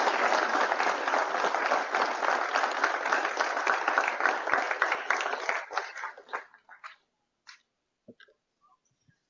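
An audience at an inauguration ceremony for a college tech festival gives a loud, sustained round of applause that thins out and fades to a few scattered claps near the end.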